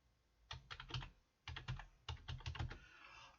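Computer keyboard typing in quick bursts of clicky keystrokes, three short runs separated by pauses, close and clear with no talking.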